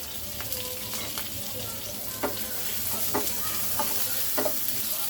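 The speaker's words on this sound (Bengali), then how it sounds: "সেই পেঁয়াজটা তেলে দিয়ে ভেজে নিব" Onions and green chilies sizzle steadily in hot oil for a Bengali masoor dal bhapa, a dense close frying hiss with a few sharp stirring scrapes.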